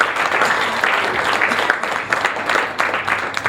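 Audience clapping for a group of Vietnamese musicians playing traditional instruments, a brisk, moderately loud round of applause with scattered individual claps rising and falling throughout.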